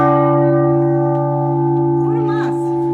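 A church bell in a bell tower rings with a sustained metallic tone and long humming overtones that fade slowly, heard close and loud, with brief voices faintly underneath near the end.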